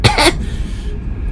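One short, dry, harsh cough is voiced close up, quickly fading to quiet room tone.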